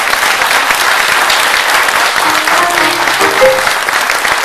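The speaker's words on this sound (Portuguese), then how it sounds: "eu pedi uma salva de palmas para eles agora" Audience applause for a veterans' orchestra at a variety show, loud sustained clapping with faint voices and stray tones underneath.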